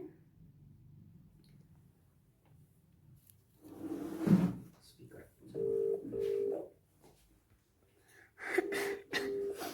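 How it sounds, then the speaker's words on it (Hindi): A telephone rings with repeated electronic buzzing tones while a call is placed, sounding in short bursts between quieter gaps, alongside some handling noises and a voice nearby. "और अभी हम सिमरन जी को कॉल करते हैं"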